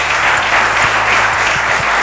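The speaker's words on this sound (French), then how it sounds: "merci de l'applaudir" Loud, dense applause from an audience at a televised talent competition, steady clapping filling the whole moment with no pauses.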